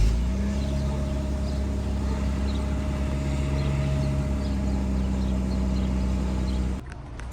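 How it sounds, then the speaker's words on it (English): Steady engine drone from an Infiniti Q car running on its stock exhaust, loud and continuous with low rumble, cutting off abruptly near the end. "Let me get a last clip for you guys. Last clip with a stock exhaust."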